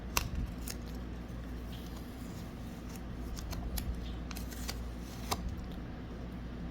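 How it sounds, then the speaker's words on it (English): Tape being peeled off trading cards, a run of faint, close crackles and short sticky ticks scattered over a quiet background, with a couple of sharper snaps near the end. "let's just pull the tape off"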